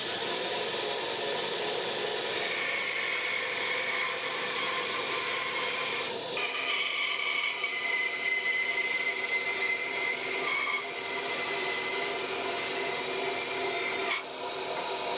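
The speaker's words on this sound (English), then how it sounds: "Now I'm going to get these two ends cut out on the bandsaw." A bandsaw cuts wooden end pieces for a rack, giving a steady rasping drone that holds at the same level throughout, with a slight change in pitch partway through as the blade moves through the wood.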